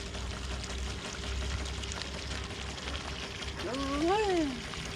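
A steady, broad rush of water pouring continuously into a duck pond, with a voice talking briefly over it near the end.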